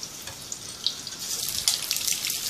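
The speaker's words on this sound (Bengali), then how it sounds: "এখন এই গরম তেলে আমি ডিমটা একটু ভেজে নেব" An egg fries in hot oil, a close, continuous crackling sizzle with scattered sharp pops that grows slightly busier toward the end.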